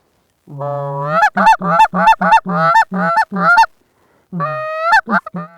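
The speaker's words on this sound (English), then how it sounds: "more geese fill the air" Geese honk repeatedly in a rapid, rhythmic series during a Montana goose hunt, loud and close, pause briefly, then resume with a few more calls.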